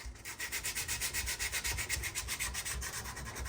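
Light, quick hand sanding of a trail camera housing for camouflage, a steady rhythmic back-and-forth scratch of about eight strokes per second, close and continuous with no talking.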